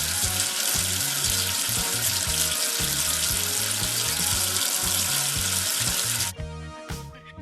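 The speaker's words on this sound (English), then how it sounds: "Wash away the soap with water." Running water in a children's 3D preschool numbers game rinses soap off a number 11, a loud continuous splashing gush over a bouncy looping game tune that breaks off near the end.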